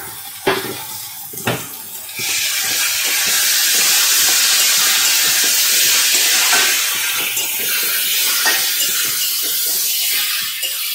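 Loud, steady sizzle of spices and ginger paste sautéing for a vegetarian cabbage dish, starting with a few sharp clanks of a utensil against the pan before a continuous broadband hiss takes over, with faint stirring scrapes beneath.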